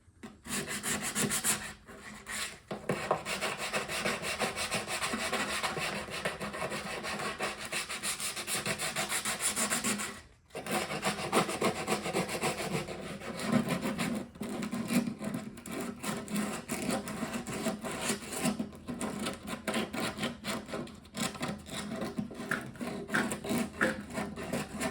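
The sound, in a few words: sanding metal cowl vent panel with 80 grit sandpaper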